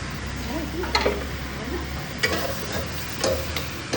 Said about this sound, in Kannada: ಚೆನ್ನಾಗಿ ಫ್ರೈ ಮಾಡೋಕ್ಕೆ ಬಿಡೋಣ.